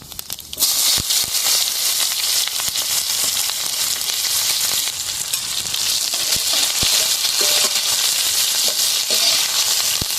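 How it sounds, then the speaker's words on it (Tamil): Onions frying in hot oil with whole spices in a pot, cooked outdoors in a village, giving a steady loud sizzle with stirring scrapes throughout. "அடுத்ததா வெங்காயத்தை போட்டுக்கோம்"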